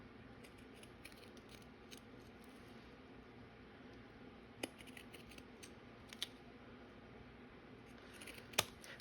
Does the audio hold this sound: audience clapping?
no